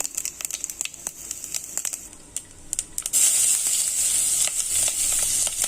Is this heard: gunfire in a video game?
no